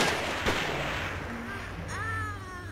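A sniper rifle shot from the survival horror game Siren, one loud booming report early on, with rising whistling and droning tones afterward.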